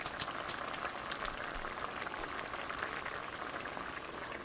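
Rice for Mexican chorizo seasoned rice boiling in an uncovered pot, a steady close bubbling and simmering hiss with scattered pops, alone and continuous.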